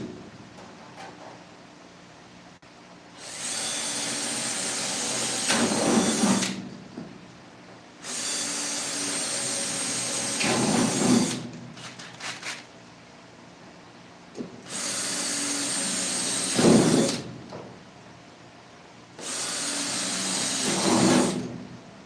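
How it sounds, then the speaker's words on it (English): Power drill boring rivet holes in a 7.5 gauge railroad car, four loud sustained bursts of several seconds each separated by short pauses, the motor whine rising and bogging as the bit cuts through, no talking. "Drilling the holes for the rivets."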